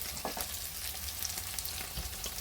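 Meat sizzles and fries in a pan with garlic vegetables, a steady close crackle with occasional stirring clicks and no voices.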